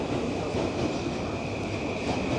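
A train rolling along the railway tracks in Shinjuku, Tokyo: a steady, dense rumble with a faint high ringing tone, close and continuous, with no voices over it.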